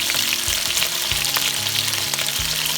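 Chicken pieces for an Italian chicken stew fry in a pan with tomatoes, giving a loud continuous sizzle and crackle with a low steady hum underneath.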